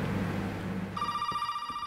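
A telephone rings inside the Resident Evil 7 video game, a steady electronic ring that starts partway through and holds on, loud and close, following a brief stretch of low background noise.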